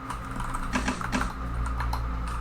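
Fast typing on a computer keyboard, a quick run of close, crisp key clicks in irregular bursts over a low steady hum, with no talking.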